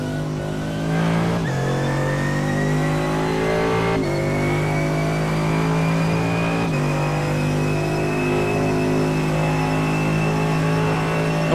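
AMG race car engine in the iRacing video game, a loud continuous roar that climbs in pitch through several gear changes, each shift marked by a brief dip before the revs build again, with no talk.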